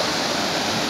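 Gürleyik waterfall pours in a steady, loud rush of water, a dense unbroken roar filling the short moment with no voices over it.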